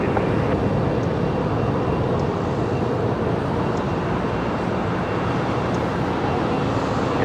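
An airliner descends on approach at Los Angeles International Airport, giving a continuous broadband jet roar at moderate distance that stays steady and even throughout, with no voices.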